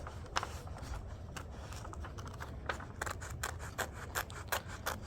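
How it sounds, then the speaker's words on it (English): Scissors making small snips as they cut around the edge of a sheet of paper, a quiet, irregular series of short crisp clicks and crunches heard close up. "You should hear little sounds of the scissors munching, not a big sound."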